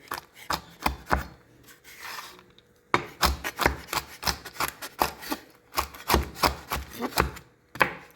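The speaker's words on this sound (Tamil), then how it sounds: "பாதாம், முந்திரி, பிஸ்தா மூணையும் நல்லா பொடியாக கட் பண்ணி எடுத்துக்கலாம்" Rapid, crisp knife chops on a cutting board as almonds, cashews and pistachios are finely chopped, in quick irregular bursts with a brief pause near the middle, close and clear with no talking.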